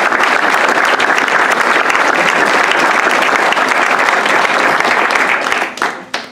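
An audience at a distinguished alumni hall of fame induction applauds the new inductees, with loud, sustained clapping that holds for nearly six seconds before tapering off into a few scattered claps.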